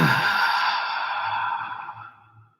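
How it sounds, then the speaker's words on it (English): One long, audible exhale, breathy and close, starting strong and slowly fading over about two seconds, with no words spoken. "And then do an audible breathing out."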